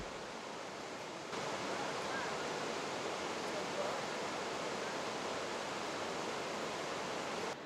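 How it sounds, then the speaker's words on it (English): Steady rushing water of a creek cascade in Glacier National Park, a continuous broad hiss without pauses, moderately loud and unvaried throughout. "From the bridge, there's a great view of the cascade."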